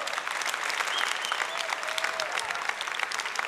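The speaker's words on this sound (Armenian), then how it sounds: "ծափարությունները տեղին են" An audience applauds at a music awards ceremony at Vivaldi Music Hall, a steady, dense patter of many hands clapping, even in level throughout.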